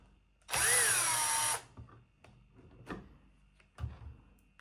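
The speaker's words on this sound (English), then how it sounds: "So actually I'm using my drill for that purposes." A power drill whirs loudly for about a second while working on an RC car, spinning up and winding down, followed by a few faint knocks and clicks.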